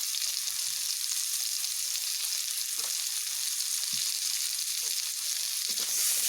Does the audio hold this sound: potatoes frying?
yes